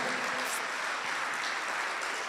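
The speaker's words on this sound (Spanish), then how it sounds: "denle un aplauso al Señor entonces, ahora por ese hecho" A crowd claps steadily, a dense wash of applause filling the whole moment without pause.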